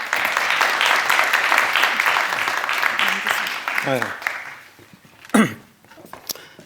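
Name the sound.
audience applause welcoming a speaker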